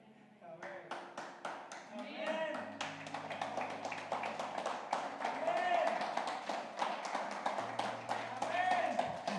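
A church congregation claps during a Spanish-language teaching sermon, steady sustained applause from many hands at moderate distance, with a voice speaking over it and faint cheering tones.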